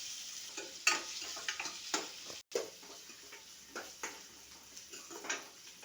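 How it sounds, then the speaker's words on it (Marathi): Onion sautéed in a pan with cumin and curry leaves for a potato bread sandwich filling, a soft sizzle under irregular spatula scrapes and ticks, with a brief dropout midway. "कांदा टाकायचा आहे आणि कांदा लाल होईसवर परतून घ्यायचा आहे"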